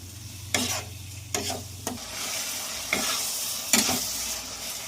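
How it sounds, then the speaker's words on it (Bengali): Chopped tomato, cinnamon, cardamom and cloves are stirred in a hot pan. Several scraping strokes of the spoon sound close over a steady low sizzle, and no voice is heard. "এবার এগুলোকে ভালো করে নেড়ে চেড়ে নিচ্ছি।"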